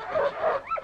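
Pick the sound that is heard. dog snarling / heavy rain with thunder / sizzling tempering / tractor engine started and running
dog snarling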